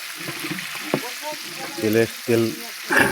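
Tomatoes hitting hot oil for pulao at a big village feast give a soft, continuous sizzle and hiss, with voices talking over it in short bursts.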